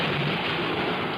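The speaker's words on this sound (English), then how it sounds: "the sound of thunder" A thunderstorm roars as a dense, continuous rumble washed with heavy rain, loud and unbroken throughout.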